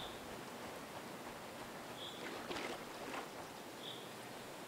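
Rain falls in the survival video game Retreat to Enen as a soft, steady hiss, quiet and continuous throughout, with no voices.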